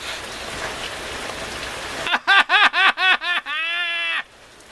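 Heavy rain pours down as a steady, close wash of noise for about two seconds, then is drowned out by a burst of rhythmic laughter from someone nearby.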